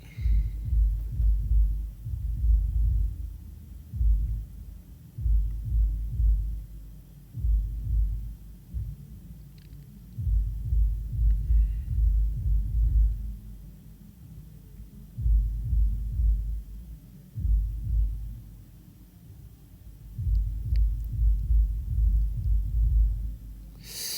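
A steady heartbeat pulses close up in a low, rhythmic thump, repeating in regular groups across the whole stretch with no talk over it.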